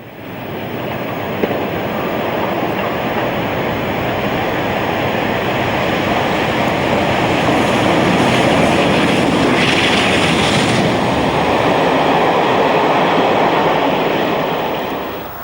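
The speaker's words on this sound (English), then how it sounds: "Another Regency rail cruise from Crewe to Whitby passes Horbury in August 1999." A Peak class diesel locomotive hauls a Regency rail cruise train from Crewe to Whitby past Horbury, a loud, sustained roar and rush of passing carriages that swells and holds for the whole stretch before easing at the end.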